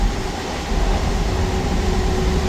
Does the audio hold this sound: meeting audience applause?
no